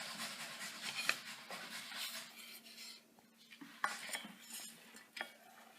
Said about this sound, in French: on va brasser tout ça pour mélanger